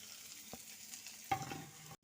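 Chopped onion and green chilli hit hot oil in a pan with a soft, steady frying hiss, broken by a couple of brief stirring clatters and a quick utensil knock near the end.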